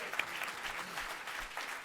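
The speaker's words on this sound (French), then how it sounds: "Et là, vous m'applaudissez." Audience applause at a closing session of a French developer podcast's live show, a steady soft wash of many hands clapping, fairly distant and even throughout with no voices.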